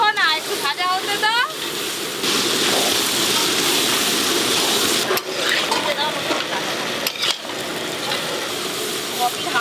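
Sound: onion, ginger and garlic frying in a pan

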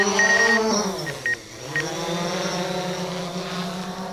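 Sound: camera drone flying

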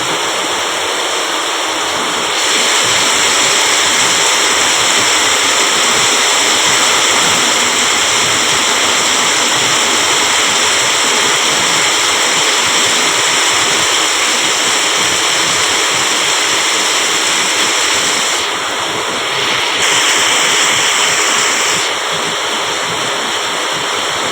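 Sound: flowing rainwater

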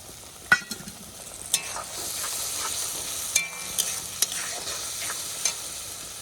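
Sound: water poured into sizzling curry in pan

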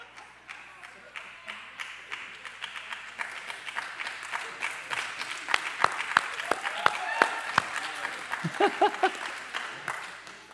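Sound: audience applause

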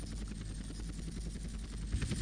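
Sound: helicopter landing in the video game GTA San Andreas

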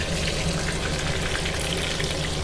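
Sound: soup boiling in a pot

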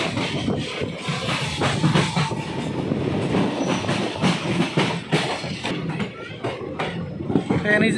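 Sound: Ambala Delhi Intercity Express train running on tracks

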